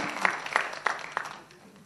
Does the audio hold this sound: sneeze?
no